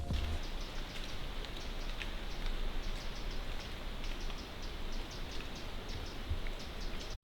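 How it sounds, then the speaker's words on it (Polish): Woodland ambience with a dense, steady patter like rain on leaves, soft rustling of falling leaves and faint bird chirps in the background, fairly quiet and continuous. "tutaj bardzo fajnie słychać dźwięki spadających liści z drzew i ćwierki ptaków w tle"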